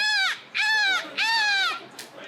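A human voice imitates a seagull's cry during a quiz-show challenge, giving three loud, nasal, wavering squawks, each about half a second long, close to the microphone with short pauses between them.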